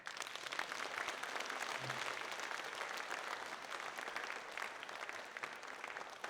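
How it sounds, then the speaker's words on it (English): A forum audience applauds a panel discussion, a dense, steady wash of clapping from many hands that carries on for several seconds without letting up. "please give them a warm round of applause"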